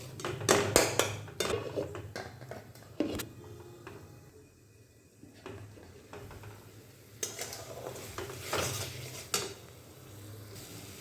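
Potatoes stirred in oil in a pan, with bursts of scraping and clacking from the spoon against the pan, a quieter pause in the middle, then more clusters of stirring over a soft frying hiss.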